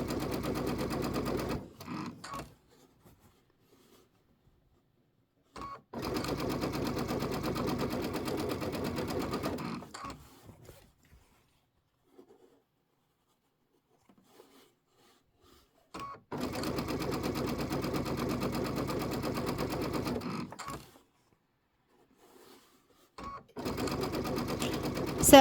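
A sewing machine stitches a quilted bench pillow in long steady bursts, separated by quiet pauses, close and clear with no talking over it.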